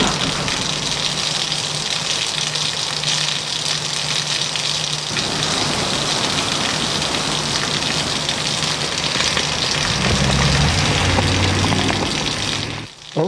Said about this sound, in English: Until it began to rain.